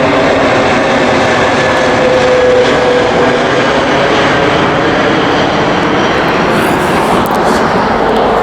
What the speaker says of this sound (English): Turns out to be quite a day for plane watching around here.